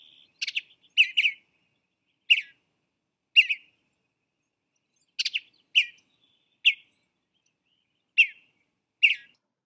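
A western bluebird sings clear, short warbled phrases, about nine brief bursts spaced irregularly over quiet background, fairly close and moderately loud.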